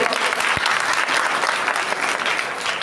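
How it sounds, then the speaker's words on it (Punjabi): Crowd at a BSP candidate's political gathering in Mangwal village breaks into loud, sustained applause, an even clapping roar with one brief thump early on. "ਮਾਰੋ ਤਾੜੀਆਂ ਦੇ ਨਾਲ"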